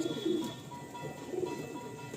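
Pigeons coo in soft, low, throaty burbles, two short rounds close by against a steady background hum.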